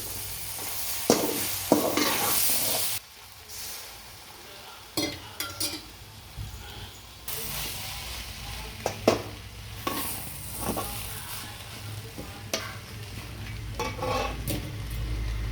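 Kothu parotta being stirred and fried in a pan at home, with scraping spatula strokes, clattering metal and a steady sizzle running throughout, close and fairly loud.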